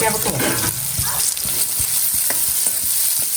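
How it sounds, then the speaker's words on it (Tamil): Small onions frying in coconut oil sizzle loudly and close, broken by quick scrapes and knocks of a spatula stirring the pan in a short burst without speech. "வெங்காயம் போட்டு வெங்காயம் நல்லா ப்ரௌன் ஆகிற வரைக்கும் வச்சணும்."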